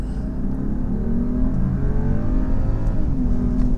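A 2020 Mercedes-Benz GLE 450 SUV with a 48-volt hybrid system accelerates hard, its engine note rising and sustained in a strong, steady pull from inside or near the car, with no talking.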